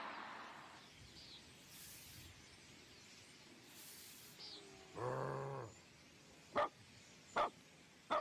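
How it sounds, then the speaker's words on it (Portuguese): A dog gives a few sharp barks near the end, preceded by a brief growl-like burst, against a quiet background with scattered faint noises. "Sai daqui, cachorro!"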